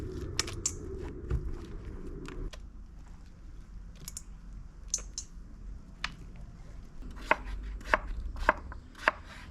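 Knife chopping pumpkin for Romanian pumpkin soup with milk, a dense run of quick close taps at first, then sparser, sharper cuts on the board, with a faint low room hum underneath.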